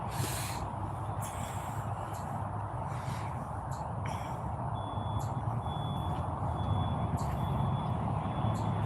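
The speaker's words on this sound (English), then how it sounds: "Always some truck backing up somewhere." A truck backs up somewhere nearby, its reversing beeper sounding at a steady repeating rhythm over a constant engine drone, with a few brief hisses and knocks mixed in and no talk.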